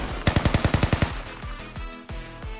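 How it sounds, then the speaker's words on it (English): Automatic gunfire in the video game Blue Archive: a rapid burst of about nine sharp, loud shots, followed by a few slower, scattered reports, with no voices. "I could hear gunfire just now"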